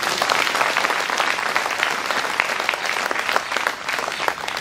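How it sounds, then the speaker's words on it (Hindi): A church audience claps steadily through a confirmation ceremony at a parish in Mamarla, the dense applause holding close and even from start to finish with no voices over it. "ताली बजाइए।"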